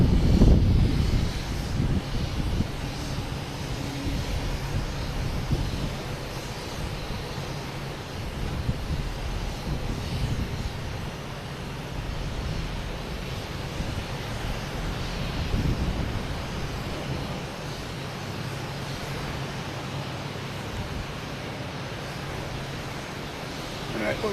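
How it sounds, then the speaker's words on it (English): An American Airlines A319 jet, lined up on runway 22 Left at Boston Logan and bound for Chicago, gives a steady low engine rumble with wind noise for the whole stretch, while people talk over it. "American Airlines A319 heading to Chicago, lined up on 22 left"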